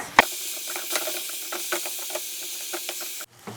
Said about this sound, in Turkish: kıymayı kavurmaya devam ediyoruz